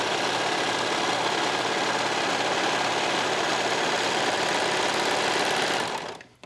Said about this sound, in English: Just make sure the fabric doesn't stretch while you're serging.